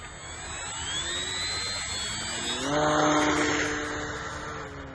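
A Durafly Bravado 1000 mm 3D/sport RC model airplane on a 3S 1500mAh Nanotech battery flies close by. Its electric motor whines steadily, then its pitch rises and swells louder as the throttle opens.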